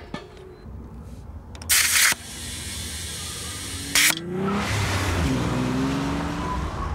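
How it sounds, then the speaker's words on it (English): Car cornering hard through a pylon course, engine droning steadily with a couple of sharp bursts of noise and a rising squeal of tires near the end, moderately loud and without talk. "That's better, not nearly as much tire squeal."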